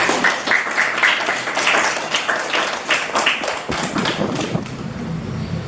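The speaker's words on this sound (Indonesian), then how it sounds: "Kita kasih tepuk tangan dulu untuk Davina." Classroom applause for a student, a group of pupils clapping in quick, uneven bursts that are close and fairly loud, thinning toward the end.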